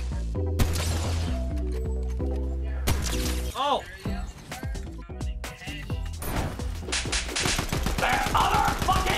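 In a Fortnite match, gun blasts and sharp shot impacts crack out over game music and sound effects, with a player talking throughout.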